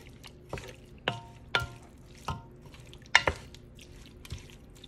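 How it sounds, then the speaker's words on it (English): Shrimp, vegetables and herbs being stirred together in a pan for bow tie pasta, giving a handful of soft, wet clicks and squelches spaced irregularly, close and fairly quiet. "Alright, let's stir it all up. The veggies and the herbs with the shrimp."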